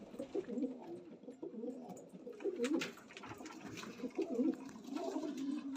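Pigeon cooing up close, a low soft rolling coo that repeats through the stretch over a faint background hiss, with no talk.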